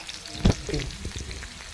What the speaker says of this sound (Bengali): এখন ফোড়নে দিচ্ছি কুচি করা পেঁয়াজ, তারপর তেজপাতা